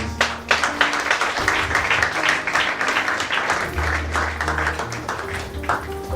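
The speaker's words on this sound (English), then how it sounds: "Another round of applause for Mr. Yemi." Steady audience applause after a keynote address at a cabin crew fair fills the room for several seconds, with a low hum and faint voices underneath.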